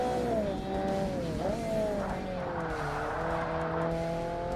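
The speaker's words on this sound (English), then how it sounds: "Don't know why this car has such a tendency to slide" Race car tires sliding and squealing on an all-wheel-drive point-to-point course in the 2005 Xbox game Forza Motorsport, a loud sustained screech that wavers in pitch over a steady engine drone.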